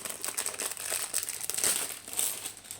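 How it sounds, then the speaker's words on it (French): Plastic wrapping crinkles and rustles steadily as a square diamond painting canvas is unwrapped, close and alone. "le temps de vous déballer la toile en diamant carré"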